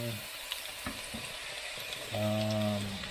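Onions frying in a pan at home: a continuous close sizzle with faint stirring taps, then a brief steady humming tone near the end.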